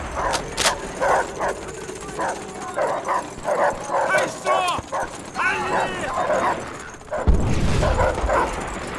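Attack dogs in Call of Duty: World at War multiplayer barking and yipping in a rapid, repeated series of close, loud barks with whimpers, mixed with game noise and a burst of impact near the end.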